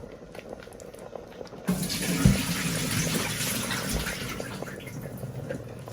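Green plantain, edibles and sweet potatoes drop into a pot of water for callaloo soup, a sudden splash followed by steady sloshing and running-water noise close by.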